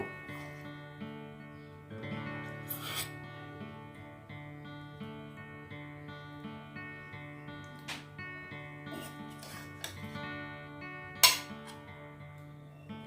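Cooked eggplant, Bengali sahebi begun, being served onto a plate: a few light clinks of a metal spoon against dishes, with scattered taps and one sharper clink near the end, over quiet background music.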